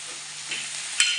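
Curry leaves are dropped into hot oil for a white kurma and give a brief, bright crackling sizzle that swells sharply near the end.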